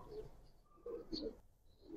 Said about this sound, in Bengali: এগুলো পুরান জাতের সাপচিলা বলে